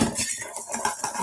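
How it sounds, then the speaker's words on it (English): A rum cocktail gets a quick stir with ice in a glass, producing a loud, close, continuous clinking and rattling of ice and spoon against the glass that lasts barely over a second. "So a bit of ice in there. Give it a wee stir."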